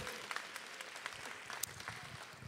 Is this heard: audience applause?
yes